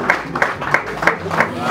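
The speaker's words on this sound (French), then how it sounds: "Applaudissez encore, mesdames et messieurs" Rhythmic applause with steady, evenly spaced claps at a ceremony honoring a political analyst, fairly close and continuous, with a voice faintly mixed in.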